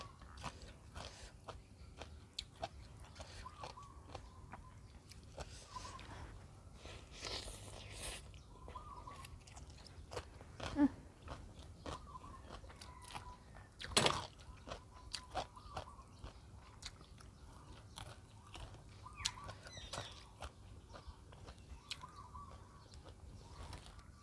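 Fresh, crunchy long beans being chewed close to the mouth. Soft, irregular crunches repeat for about twenty seconds over a quiet background, with a few louder bites standing out.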